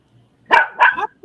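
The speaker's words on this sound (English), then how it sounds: "It's a dog war." A few sharp, close barks from a dog, two quick loud yaps followed by the start of another, with nobody talking.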